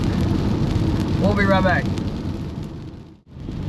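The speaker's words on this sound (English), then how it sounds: "It's raining, and we're in it." Rain drums steadily on a car moving down an interstate, a continuous wash of noise with brief speech partway through before the sound cuts off.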